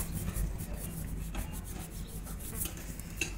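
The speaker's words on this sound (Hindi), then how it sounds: "ये भी साफ़ करना है कपड़े की मदद से।" A cloth rubbed over a dirty Honda CD70 motorcycle clutch part to wipe it clean, a continuous soft scrubbing friction with a few brief louder swipes, close and quiet.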